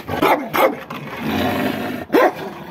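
A large dog nearby barks loudly and growls, giving several sharp barks between stretches of low, rumbling growl. The dog is aggressive and has already bitten several people.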